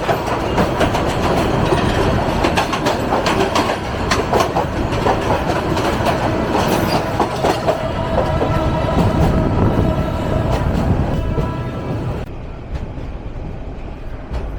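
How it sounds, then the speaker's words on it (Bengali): Rangpur Express train pulling out of a station, a loud continuous rumble of wheels and clattering railcars for most of the run before the noise thins and fades toward the end. "ভীষণ বিলম্ব নিয়ে রংপুর এক্সপ্রেস ছেড়ে যাচ্ছে বেলা 11:30 নাগাদ।"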